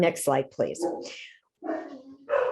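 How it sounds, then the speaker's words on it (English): Dogs barking in the background of a home, several yips and barks mixed under a person talking in the foreground. "I apologize for the dogs in the background."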